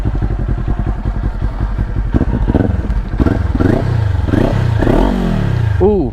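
A 400cc motorcycle fitted with a new exhaust starts up and idles loudly right next to the listener. It then rises through several sharp revs that climb and fall in pitch, with a blip at the very end.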